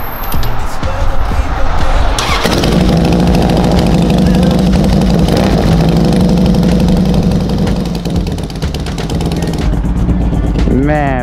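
A 2006 Harley-Davidson Softail Deluxe motorcycle engine cranks and catches, then settles into a loud, close, rumbling idle that carries on steadily throughout.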